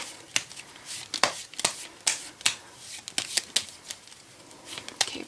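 Oracle cards being shuffled by hand in a tarot-style reading, a steady run of crisp riffling and slapping bursts close up, with no talking over them.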